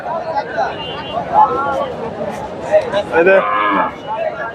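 A pregnant dairy cow at a busy cattle market in Bangladesh gives several drawn-out moos close by, with people talking and market chatter continuing underneath.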